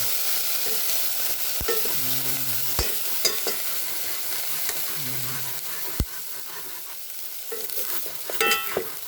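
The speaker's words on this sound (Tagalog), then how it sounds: "Pinangaan ko na lang adobo sa tuyo na walang sabaw." Chicken adobo cooked dry in soy sauce with no broth, frying and sizzling steadily in a pan while being stirred, with scraping clatter and a few sharp utensil knocks on the pan, close and fairly loud.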